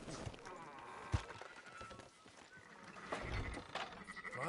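Sheep bleat in a busy, cluttered scene in Red Dead Redemption, with rustling, hoof-like clatter and a faint voice mixed underneath.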